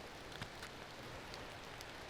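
Rain falls steadily in a Lake District woodland quarry, a soft, even patter with a few brighter drips standing out close by.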